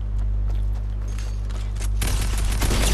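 Rapid gunfire bursts from a Fortnite match, loud and dense, building into a heavier barrage over a steady low game hum toward the end.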